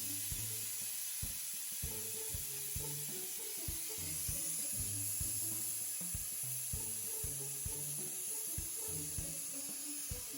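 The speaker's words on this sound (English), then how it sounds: "and now I'm letting the steam out." A pressure cooker releasing steam after two whistles gives a steady, forceful hiss throughout, with low rhythmic clunks and rattles beneath it.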